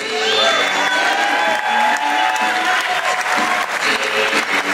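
Thunderous audience applause at the 2013 New York Pro bodybuilding contest, 212 lb class: dense, loud, sustained clapping from a large crowd with a few scattered whoops and cheers.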